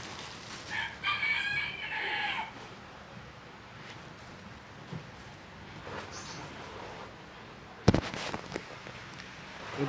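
Bangkok and village chickens crow in a farmyard, one clear drawn-out cock-a-doodle-doo early on and faint clucking after, with a sharp sudden crackling burst near the end.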